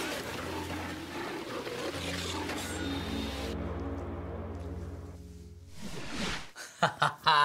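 A lion roars in a film playing on a TV set at home, a low, sustained rumbling roar that fades out before a few brief chuckles and bursts of noise.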